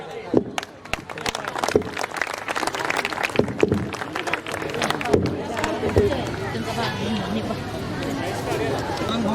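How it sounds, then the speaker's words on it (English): Audience at a school annual concert gives scattered, uneven clapping for children coming on stage, mixed with crowd chatter, footsteps and murmuring voices, with a few sharp close claps standing out. "Please welcome the children with a big round of applause"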